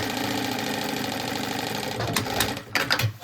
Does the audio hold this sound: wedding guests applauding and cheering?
no